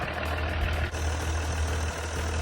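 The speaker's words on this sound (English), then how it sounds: "It sounds good to have the truck back on" A repaired truck engine runs steadily at idle, a low continuous rumble close by that stays even for a couple of seconds, with no talking.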